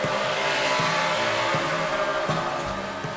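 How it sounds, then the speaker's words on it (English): Roaring 900 horsepower NASCAR Ford, Chevy and Dodge race car engines at full song on the Michigan oval, a loud sustained multi-car drone with repeated swelling passes as the pack thunders by. "the sound of 900 horsepower Ford, Chevys, and Dodges"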